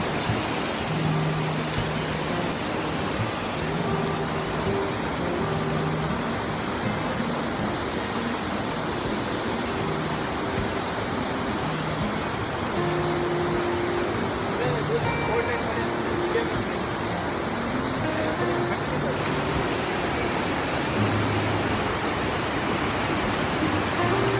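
Steady broadband roar of a waterfall somewhere on a Coorg and Wayanad rainy-season trip, loud and constant throughout, with faint low tonal murmurs beneath that may be distant voices.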